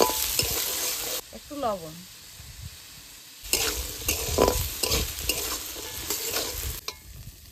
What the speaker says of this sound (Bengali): এবার আলুগুলো একটু ভালো করে ভেজে নেব।